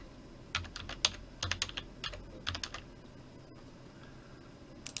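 Keys on a computer keyboard are pressed in short bursts of crisp clicks, some quick runs and some single taps, followed by a quieter pause with a faint hum underneath.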